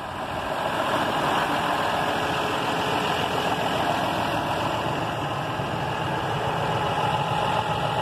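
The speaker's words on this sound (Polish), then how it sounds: "Ciągnik chodzi bardzo ładnie." A John Deere 6140R tractor engine runs, a continuous loud mechanical drone from nearby, steady and unbroken throughout.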